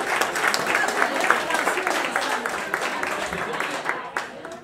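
An audience at a thanksgiving gathering breaks into dense, continuous applause, loud and close throughout, with voices mixed in before it fades slightly at the end.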